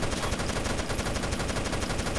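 Rapid automatic gunfire from the Rainbow Six Vegas 2 video game, a dense stream of shots at even volume with no talking.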